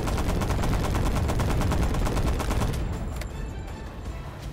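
Rapid automatic gunfire in a video game rattles loud and continuous for about three seconds, then cuts off, leaving a quieter tail of game ambience.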